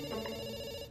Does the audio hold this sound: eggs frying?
no